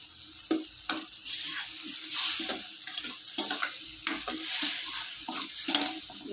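Tomato or garlic chutney frying in oil in a pan, a continuous bright sizzle that swells and eases, punctuated by frequent close scraping and tapping stir strokes, no speech.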